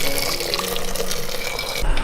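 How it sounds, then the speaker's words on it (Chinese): Boiling water poured into a clay casserole pot over stir-fried duck meat for an old duck soup: a loud, close, continuous splashing pour lasting about two seconds. "鸭肉炒干水分了就放到砂锅里来，加入开水"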